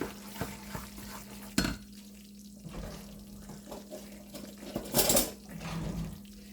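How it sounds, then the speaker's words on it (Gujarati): A spoon stirs a milk powder mava mixture in a pan over a low gas flame, with scattered scrapes and metallic clinks, a sharp knock partway through and a brief louder clatter near the end, all fairly quiet. "ધીમા ગેસ ઉપર આપણે હલાવતા જ રહીશું."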